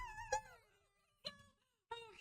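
A dog howls in three short, mournful, wavering cries separated by pauses, close and fairly quiet, with no talking.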